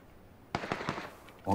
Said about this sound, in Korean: 어, 총알 날라왔다.